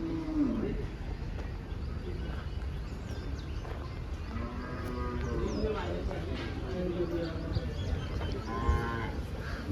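Cows at a cattle market moo repeatedly in long, drawn-out calls of varying pitch, some near and some farther off, over a steady murmur of crowd noise.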